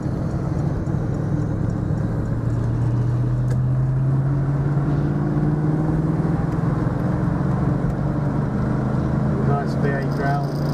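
A 1972 Triumph Stag 3.0 V8 roadster pulls in third gear with a steady, rumbling engine note that climbs gradually in pitch, heard from inside the car with road noise throughout.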